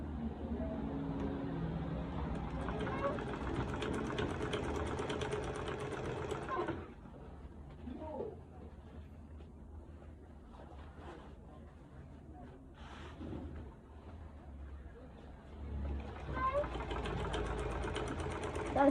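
Sewing machine stitching foam pleats for a V-shape turban: a steady close mechanical whirr that stops partway, leaving quieter handling sounds and a voice, then starts again.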